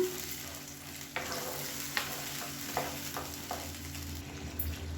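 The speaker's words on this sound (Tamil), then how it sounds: "இப்போ இந்த பேஸ்ட்டை வந்து கொஞ்சம் நல்லா வதக்கி விட்டுக்கலாம்." Tomato and onion paste sautés in a pan for idli sambar, giving a steady low sizzle broken by several sharp scraping stir strokes, with no one talking.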